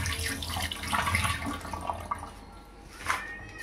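Running tap water rinses sticky jackfruit sap off hands at a kitchen sink, a steady near splashing flow with brief louder gushes, no talk.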